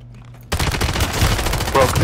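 Video game gunfire with rapid bursts of shots in quick succession, starting abruptly after a quiet moment, loud and close, with a voice briefly audible in the mix.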